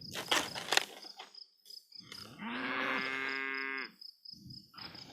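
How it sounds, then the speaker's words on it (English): Cattle mooing close by in a field, a long, loud low moo following some brief rustling sounds, with chirping insects in the background. "every time I come here, the cows gather around"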